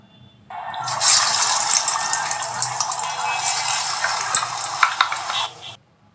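Beef shami kebabs fry in hot oil, giving a loud, steady sizzle that starts abruptly, keeps crackling with small pops throughout, and then cuts off near the end.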